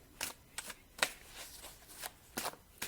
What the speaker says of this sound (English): I'm even shuffling too fast trying to figure this out.